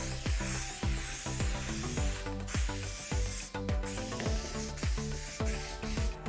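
Close, steady hissing of an aerosol spray adhesive coating a board, with rhythmic clicking pulses underneath, broken by a few short pauses as the spraying stops and restarts.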